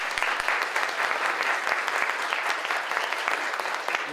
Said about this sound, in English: How about a nice round of applause for our Commissioners?